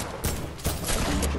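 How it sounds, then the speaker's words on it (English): Gunshots in Fortnite: a few sharp bursts of fire, punctuated cracks spaced about half a second apart over a steady background of fire, fairly close, with no talk. "Dan, why'd you have to shoot?"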